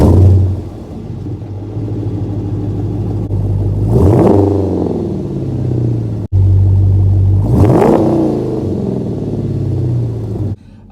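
A 2016 Dodge Challenger Shaker muscle car with a manual gearbox idles with a deep, growly rumble, then gets revved hard twice, each sharp rise and fall of the exhaust note loud and close.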